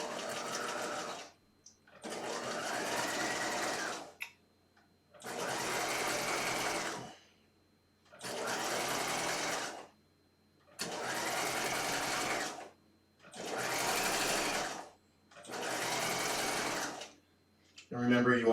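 A sewing machine stitches horsehair braid onto a skirt lining in seven steady bursts of rapid mechanical whirring, each lasting about two seconds with short pauses between, close and clear.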